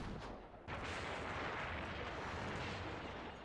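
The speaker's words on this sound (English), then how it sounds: "We heard cannons land right next to where we were." A rumbling, continuous barrage of heavy booms and explosions fills the scene after a brief lull, loud and close, like cannon fire landing nearby, in the video game Hakuoki: Kyoto Winds & Edo Blossoms.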